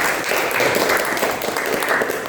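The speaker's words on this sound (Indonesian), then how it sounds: "Tepuk tangan dulu untuk Pak Ijak" An audience claps steadily for Pak Ijak at a public-service integrity workshop, a dense, even round of applause lasting a couple of seconds.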